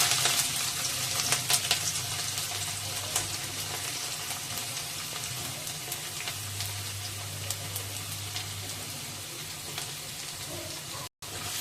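Garlic and finely chopped ginger frying in hot oil for veg hakka noodles, a faint, even sizzle with a few light crackles near the start, steady and alone without speech.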